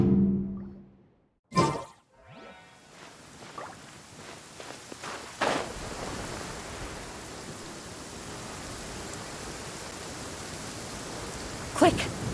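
Heavy rain in a video game, a dense steady rush of falling water with a few sharp thuds and a whoosh near the start and a brief knock near the end.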